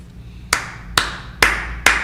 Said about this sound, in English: I'm giving you a bundle of claps